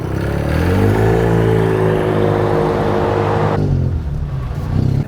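A small car engine, a licence-free microcar rigged with eleven exhaust outlets, revs loudly and steadily with its exhaust valve closed, the drone holding for several seconds before cutting off and briefly picking up again at the end.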